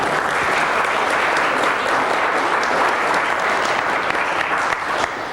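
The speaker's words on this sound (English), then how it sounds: "You can clap. Come on, let's go." A conference audience claps steadily in a dense, sustained wash of applause, loud and continuous throughout, with no voices standing out.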